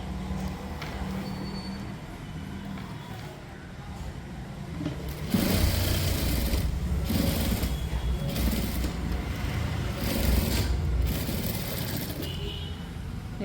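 A sewing machine runs steadily while stitching the fold of a blouse, a continuous mechanical whir that grows louder partway through and holds with slight surges in intensity, fairly close and with no talk.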